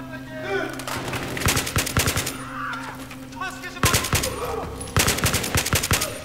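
Rapid automatic gunfire in the Battlefield 3 campaign, loud and close, in several sustained bursts over constant game background noise, with a player shouting excitedly between bursts.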